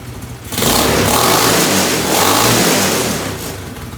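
A Honda CL70 K1 motorcycle engine revs up loudly close by, holding a buzzing high pitch before easing off and rising again briefly.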